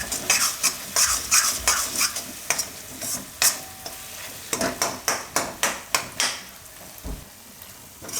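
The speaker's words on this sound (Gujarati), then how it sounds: "2 મિનિટ પકાવી લેવું આમાં તેલમાં." Amla chutney cooking in oil in a pan, with a spoon stirring and scraping in quick rhythmic strokes over a soft, continuous sizzle, close and fairly loud, with no voices.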